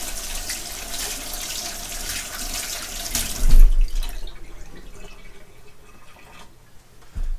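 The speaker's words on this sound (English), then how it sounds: "I'll rinse my hands off real quick." Running tap water splashes steadily over hands at a kitchen sink, a loud broad rush for several seconds that cuts off abruptly, leaving quiet room tone with a soft thump near the end.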